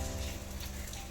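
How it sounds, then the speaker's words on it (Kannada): Rain falls steadily on a rainy morning at home, a soft continuous hiss with faint patter and a low background hum, no voices. "ಮಳೆ ಬೇರೆ ಬರ್ತಾ ಇದೆ"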